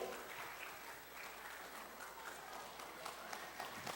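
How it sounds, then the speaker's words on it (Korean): Steady crowd applause at a church Pentecost Bible-recitation awards event, a continuous patter of many hands clapping at moderate distance, with no clear speech over it. "박수."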